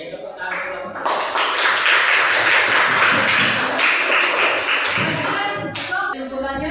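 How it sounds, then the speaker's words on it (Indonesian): Students in an Indonesian classroom clap for a group, a dense burst of applause that starts suddenly, holds steady for several seconds and thins out toward the end. "tepuk tangan kelompok"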